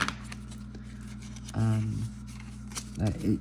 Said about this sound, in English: It shuffles really easily.